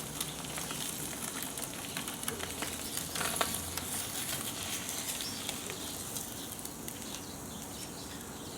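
Bacon and eggs fry in a pan during an outdoor motorcycle-trip breakfast, giving a steady, close sizzle with fine crackling pops throughout and no talking.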